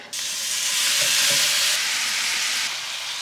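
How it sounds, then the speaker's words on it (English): Bulgogi sizzles steadily in a large frying pan over a fire, a loud, close, continuous hiss with a faint stir or clink midway, and no talking. "take a large enough frying pan, and we're ready to cook our bulgogi over the fire"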